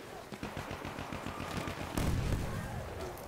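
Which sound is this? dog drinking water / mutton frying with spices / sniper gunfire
sniper gunfire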